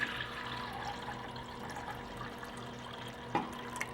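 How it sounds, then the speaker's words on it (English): Kombucha starter tea poured off into cups, a steady close splashing of liquid running for several seconds with a brief louder splash near the end. "So I'm going to pour off 2 cups of this."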